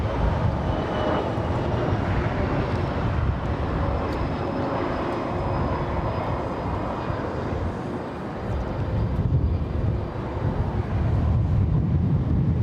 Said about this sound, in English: another heavy on final approach for the south side. Looks like United Airlines 609 flying in from ORD